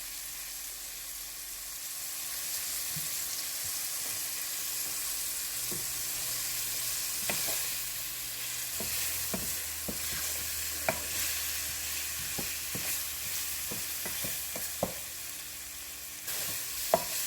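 Beef stew meat browns in its own grease in a pot, a steady low sizzle with scattered scrapes and taps of stirring throughout, no speech.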